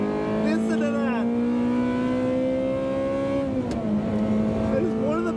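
A 1995 Ferrari F355 Berlinetta engine revs hard and loud, holding a steady high pitch, then dropping briefly and climbing again as the revs rise.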